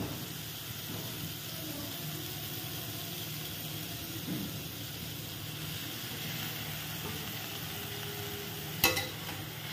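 Ground spice paste sautés in a pan with a soft, low sizzle and scraping stirs, steady and fairly quiet throughout, with one sharp clatter near the end.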